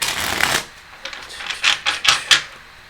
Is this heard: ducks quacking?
no